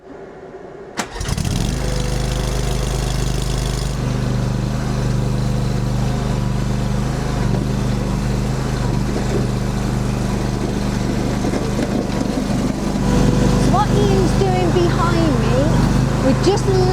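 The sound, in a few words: mini tractor engine levelling and grading stones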